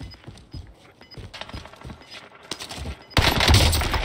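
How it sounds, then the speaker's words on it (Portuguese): Gunfire from a video game crackles in scattered bursts, then turns into a loud, dense volley near the end. "Meu Deus, o cara atirando aqui."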